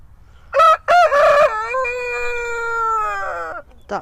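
A cockerel crows nearby, starting with a few sharp rising notes and then holding a long, loud, drawn-out call before a short tail, with no talking over it.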